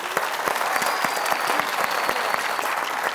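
A studio audience at a Persian Family Feud game show breaks into sustained applause, dense and steady clapping from a crowd with no voices above it.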